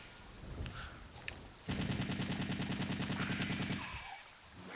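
A machine gun in Resident Evil 3 Nemesis fires one sustained rapid burst of about two seconds, loud and close, after a quiet stretch with a couple of faint clicks, then the fire cuts off into a softer tail.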